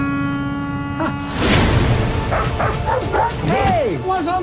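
A dog gives a few short barks and yips followed by rising, whining whimpers, close by, while someone talks over it in a moving vehicle.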